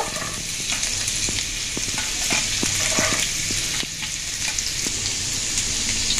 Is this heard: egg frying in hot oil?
yes